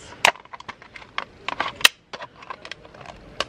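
A hard, woody plant stem being hacked and chopped while preparing an air layer, giving a series of sharp, irregular cracking and splintering knocks, close and fairly loud, with no talking.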